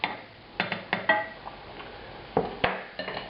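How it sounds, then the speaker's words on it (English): A large spatula scraping and clinking against a pan while lifting fried salmon onto a plate in an Indian restaurant-style salmon curry: several sharp metallic taps and scrapes at irregular intervals, close and moderately loud, with no talking. "Now I'm going to use the same large spatula again to move the fish off to a plate"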